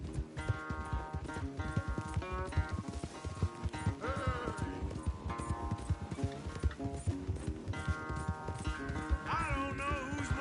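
Horses galloping hard in a race in Red Dead Redemption 2, a dense rhythmic clatter of hooves running steadily and loudly throughout, with tonal game music or ambient sound layered over it and no clear talk.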